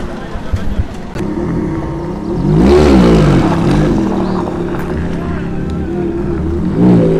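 A Ferrari engine drones steadily as the car drives, swelling louder with a rising rev around the middle and again near the end, heard from inside or close by.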